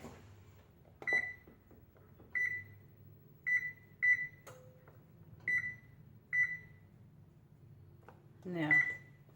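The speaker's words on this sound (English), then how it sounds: "We're going to set the timer for 15 minutes" A kitchen timer is set for 15 minutes while making brownies, giving a series of short, crisp beeps spaced a second or so apart, then a longer final chirp over quiet room tone.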